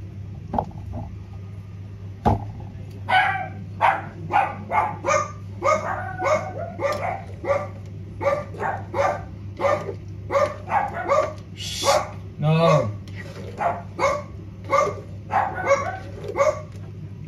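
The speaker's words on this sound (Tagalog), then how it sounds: "mga aso natin dito, mga chitsu, kapag mayroon silang naramdaman, hindi mo silang mapipigilang tumahol ng tumahol" Shih tzu dogs bark repeatedly in rapid, yappy bursts over a steady low hum, close and loud, with a brief spoken word early on.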